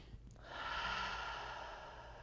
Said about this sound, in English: Not really sucking breath in, but just taking easy breaths.